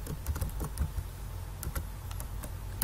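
Quick, uneven keystrokes clatter on a computer keyboard, close and continuous, with no talk over them.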